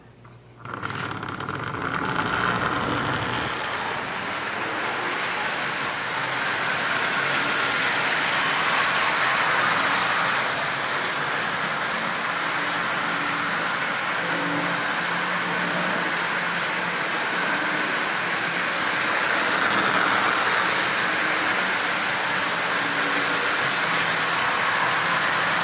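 A Marx 1666 toy train locomotive pulls eighteen Marx cars around the track with a steady, loud whirring motor hum and rattling wheels, running continuously and close by without talk.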